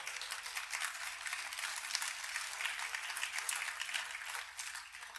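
Steady applause from an audience at the WITA annual awards dinner fills the room, an even, moderately loud wash of many hands clapping for the whole stretch with no pauses.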